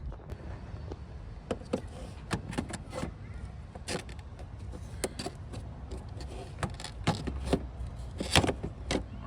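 Plastic clips being pried off the air filter housing of a Nissan Sentra, a series of sharp snaps and clicks with handling rattles scattered irregularly, close and fairly quiet.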